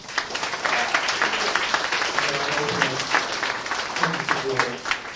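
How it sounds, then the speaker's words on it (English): An award ceremony audience gives a round of applause for a publisher's team, a dense and sustained wash of clapping heard close, with a voice talking faintly underneath. "a huge round of applause, please, for Alistair Giles and his team at Agile"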